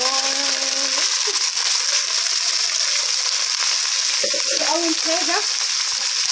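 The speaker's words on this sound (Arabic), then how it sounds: "انا هنزل اول حاجه تتشوح ايه، البسله والفاصوليا والجزر ده" Peas, green beans and carrots sauté in hot ghee for a vegetable soup, a dense continuous sizzle filling the whole stretch while a voice talks briefly over it.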